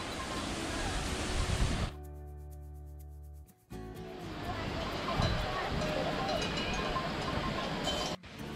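Tad Yuang waterfall near Pakxong in southern Laos roars with a broad, steady rush of falling water. The rush is interrupted by a brief cut partway through and then continues strongly.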